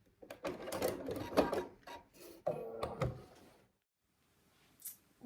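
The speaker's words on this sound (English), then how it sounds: "do a bit of a reverse stitch just to secure at the end of each seam" Sewing machine running a short reverse stitch at the end of a seam while piecing a lap quilt, with a few quick, close mechanical bursts and clicks that give way to near silence.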